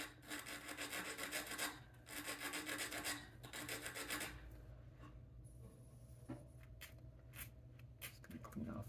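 A file rasps a burr off a Movado watch bracelet pin in steady back-and-forth strokes, close and quiet, with a few faint taps near the end.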